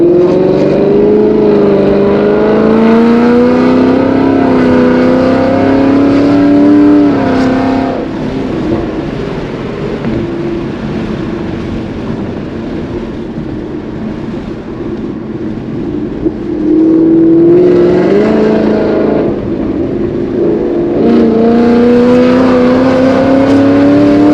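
An E85-fuelled S550 Ford Mustang GT with catless headers drives along an industrial back road, its loud V8 rising through gears, easing off into a low burble, then revving hard again.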